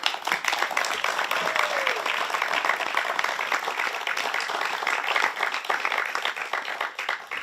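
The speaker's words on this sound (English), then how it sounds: "let's give a round of applause to Howard Rogerson" Dense, steady applause from an audience at the final-night awards ceremony of Safari Guide of the Year, filling the whole stretch with continuous clapping at an even level and a faint crowd murmur underneath.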